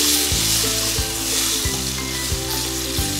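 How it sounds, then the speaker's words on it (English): Mushrooms and brandy sizzle steadily in a frying pan while a spoon scrapes and stirs in regular strokes, roughly every two-thirds of a second, close and clear with no talking. "Now I'm going to place the brandy and I'm going to mix everything together."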